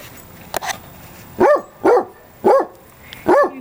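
A Basset Hound barks four times in an even rhythm, close and clear, after a couple of brief knocks at the start.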